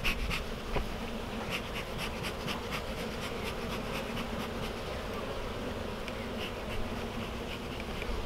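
Honeybees buzz in a dense, steady drone throughout a spring hive inspection, close and continuous, with faint clicks and rustles scattered over the hum.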